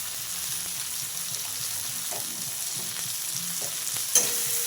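Ground cumin and coriander powder being stirred in a hot frying pan for a pointed gourd (potol) curry, with a steady soft sizzle and occasional scrapes of a spoon against the pan, no talking.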